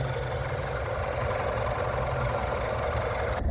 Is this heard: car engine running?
yes